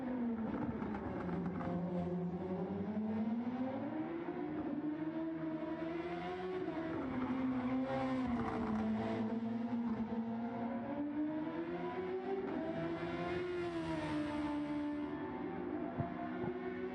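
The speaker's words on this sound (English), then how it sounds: "you can hear the whine of those beautiful engines 2-liter of these V4s" Two-liter V4 engines on open-wheel race cars wail steadily through a winter test session, a loud, continuous whining note rising and falling as the cars accelerate and pass, with no talk over it.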